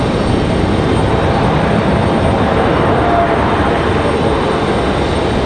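A Frontier Airlines airliner on approach to Raleigh-Durham airport makes a steady, broad, rumbling jet roar through a breezy outdoor setting, continuous and fairly loud throughout.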